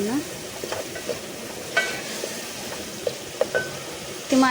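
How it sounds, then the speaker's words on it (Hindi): Tomatoes frying in a pan with a little water, stirred with a utensil for an egg dish: steady close sizzling broken by irregular scraping and clinking stirs, no voices. "अब इसको भून लेना है अच्छी तरह से ताकि टमाटर नरम पड़ जाए"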